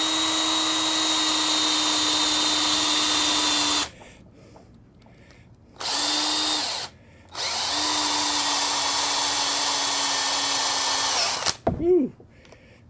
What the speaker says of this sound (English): I don't know how hard it's going to be to drill this plastic.